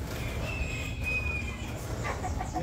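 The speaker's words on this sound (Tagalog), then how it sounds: "Tagalog na manok. Native na manok." A native Filipino chicken clucks quietly in the background amid faint outdoor noise, with no talking.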